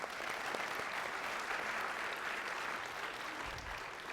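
A church congregation claps together in a sustained, dense burst of applause that fills the room evenly for a few seconds, with no voices standing out.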